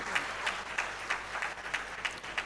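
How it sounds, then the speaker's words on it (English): A crowd at a college student induction program in Amritsar claps steadily with rhythmic pulses of louder clapping, a sustained, fairly close round of applause with no talk over it. "I would like to have a loud and cheering round of applause"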